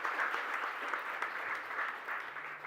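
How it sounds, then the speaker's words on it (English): Soft, continuous applause from a conference audience at The Conclave 2024 rolls on steadily, heard faintly and at a distance. "Could you please give a round of applause for him?"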